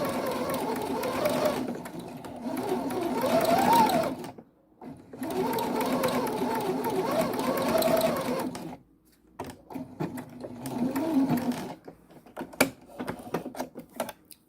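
A sewing machine runs a long quarter-inch seam through thin, lightweight fabric, its rapid mechanical whir rising and falling in bursts with short pauses between, close and alone.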